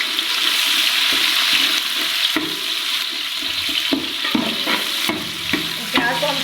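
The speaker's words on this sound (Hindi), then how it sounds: "तो सबसे पहले इसमें प्याज डाल देंगे जो काट के रखे होते हैं।" Chopped onions tipped into a frying masala for chicken biryani, a loud wet sizzle and hiss that rises as they hit the pan, with spoon scraping and stirring, no talking.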